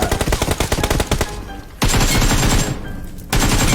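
Rapid bursts of automatic gunfire from the mobile battle royale game PUBG Mobile, dense and loud, with a brief lull before the firing resumes.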